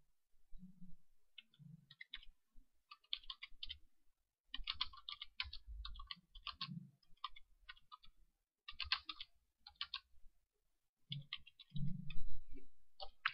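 Bursts of computer keyboard typing, quick clicking keystrokes in irregular clusters with short pauses, close and fairly soft, entering text into a serial terminal while configuring an XBee radio in XCTU.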